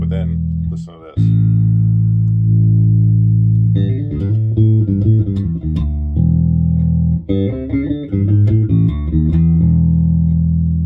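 Electric guitar played through the filter section of a Heartfield DR4, loud and alone: a sustained thin chord at first, then a run of punchy picked notes and chords with brief gaps.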